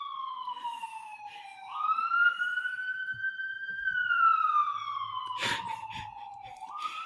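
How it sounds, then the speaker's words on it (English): A police car siren passes by, a loud wailing tone that rises and falls in long sweeps, with light background noise and brief clatter near the end. "As the police car rides by."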